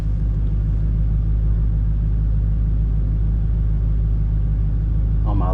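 A drag car idles at the line with a loud, steady, deep engine rumble that stays constant throughout, heard from inside the car, with a brief voice near the end.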